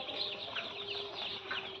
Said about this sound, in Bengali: তো দেখাও মুরগিগুলো